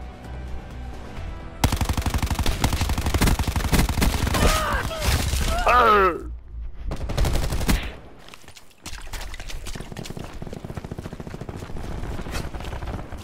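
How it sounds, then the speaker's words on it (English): Rapid automatic gunfire in Call of Duty: Black Ops 4 Team Deathmatch, dense bursts of machine-gun shots, some close and loud, others more distant, broken by brief pauses, with a voice occasionally talking underneath. "I hear gunfire."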